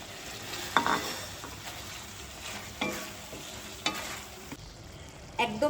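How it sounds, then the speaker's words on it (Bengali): Fried prawns sizzle in a pan of curd masala, a soft steady frying hiss broken by a few scraping stirs of a spatula, quiet and close with no voices. "এবার আমি ভাজা চিংড়ি মাছটা দিয়ে দিচ্ছি।"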